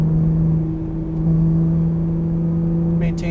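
Porsche Cayman GTS at full throttle on a track, a steady droning engine note heard from inside the car with a low hum and faint rumble, fairly loud and continuous.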